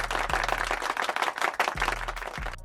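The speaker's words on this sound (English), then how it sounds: "Round of applause for Jayshawn Tate." Crowd applause for a basketball player during a Cavs vs Rockets game, a dense continuous wash of clapping with a steady low hum running underneath and occasional brief tonal sweeps.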